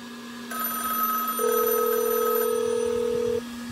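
Telephone ringing for an incoming call routed via satellite, a faint electronic ring tone with layered tones over a low steady hum, alone without talk.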